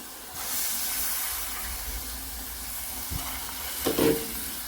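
Cowpeas and potatoes hit hot oil with onion and coconut in a pan, giving a steady hissing sizzle, broken by a brief knock and then a clattering stir toward the end.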